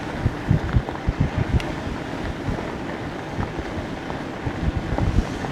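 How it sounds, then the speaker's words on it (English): Wind buffets a small action camera riding into a headwind, with steady roaring rush and gusty low-frequency thumps throughout. "Now we're going into the wind."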